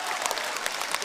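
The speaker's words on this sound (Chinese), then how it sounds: "就冲这个力气就值得鼓掌" An audience claps steadily throughout a Chinese crosstalk comedy stage performance, a dense crackle of many hands with a few sharper individual claps.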